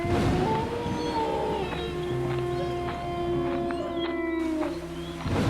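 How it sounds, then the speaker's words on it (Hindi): A long, wavering howl rises and falls over steady background noise, sustained for several seconds like a dog crying out in the rain. "बारिश में कुत्ते का रोना"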